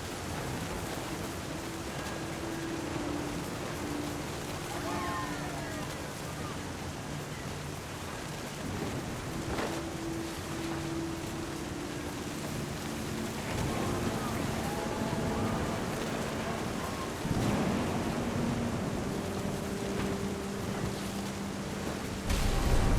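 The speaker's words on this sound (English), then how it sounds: "The thunder sounded much too close and full of angry power." Rain pours steadily through a thunderstorm in the video game What Remains of Edith Finch, with low rumbles of thunder rolling beneath the downpour and faint musical tones drifting in and out.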